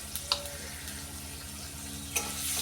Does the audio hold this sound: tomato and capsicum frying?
yes